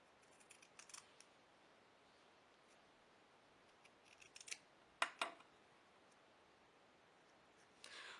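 Scissors cutting paper into strips for a junk journal, a few quiet, crisp snips in small clusters with silence between, close and faint.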